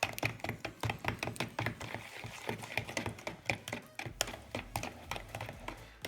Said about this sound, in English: I've added in the 1 teaspoon of vanilla extract, the 2 tablespoons of milk and the egg, and I am mixing that all